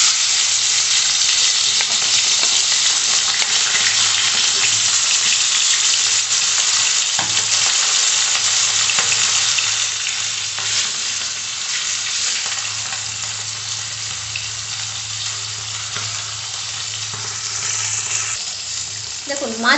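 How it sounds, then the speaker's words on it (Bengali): Bata fish sizzling steadily in hot oil in a pan, a loud continuous crackling hiss that softens slightly midway and carries on alone without talk. "দেখুন, মাছ ভাজা হয়ে গেছে।"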